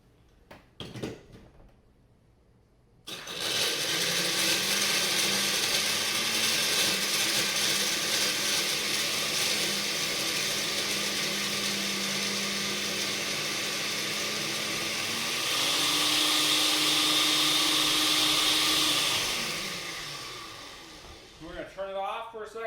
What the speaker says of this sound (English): Now we are going to blend it all together.